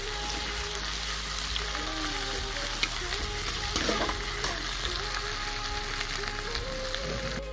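Sliced onion with ginger-garlic paste fries in a pan with a steady, dense sizzle that runs the whole time, close and fairly loud, with occasional light stirring clicks and faint background noise.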